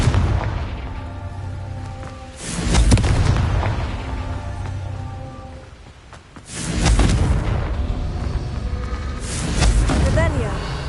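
Confringo blasting spell explosions in the video game Hogwarts Legacy on PS5 Pro: three deep, booming bursts spaced a few seconds apart over continuous game sound, with a player's voice talking throughout.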